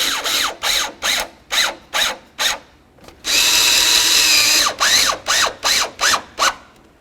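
Power drill or impact driver runs in short repeated bursts, with one long continuous run in the middle, as bolts are snugged up on the headlight of a 1988-2000 Chevy C/K1500 truck. Close and loud, with no talking.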